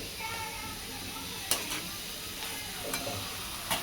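Baingan bharta of mashed eggplant with chopped coriander and crushed peanuts being stirred and sautéed in a pan, with a low steady sizzle, soft scraping of the spoon and a few sharper clinks against the pan.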